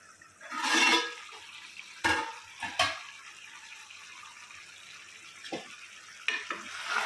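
Andhra-style chicken curry simmering in a pan as its water cooks down, giving a steady sizzle with a few sharp stirring scrapes and knocks against the pan, close by with no talking.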